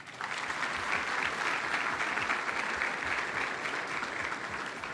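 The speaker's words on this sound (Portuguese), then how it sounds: "Uma salva de palmas." A large audience at an awards ceremony opening applauds steadily, a dense wash of clapping that holds for several seconds with no voices.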